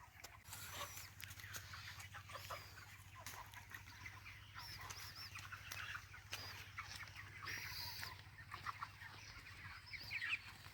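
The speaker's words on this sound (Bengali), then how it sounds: "টোটাল মিলে বললি 2200 মুরগি আছে" Chickens cluck and chatter continuously across a large poultry farm holding about 2,200 birds, a dense, steady flock noise with a constant low hum of fans or machinery underneath and occasional louder individual calls.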